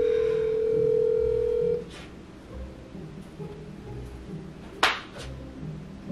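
A phone call going to voicemail: a steady electronic tone sounds for nearly two seconds, then cuts off, leaving quiet room noise and a sharp click.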